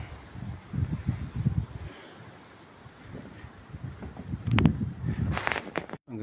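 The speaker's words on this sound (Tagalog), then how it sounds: "Medyo mahangin lang." Wind gusts across the deck of a boat moored in Greece, buffeting the microphone in low, uneven rumbles, with a few brief sharp knocks near the end.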